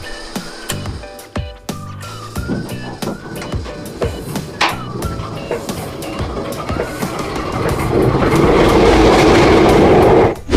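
A diesel train starts up, rumbling and clattering with rhythmic wheel clicks, the sound growing into a louder, steady roar toward the end.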